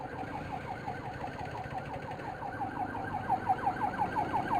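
Siren of an unmarked civilian police car wailing in a steady repeating sweep, moderately distant and continuous, growing slightly louder toward the end.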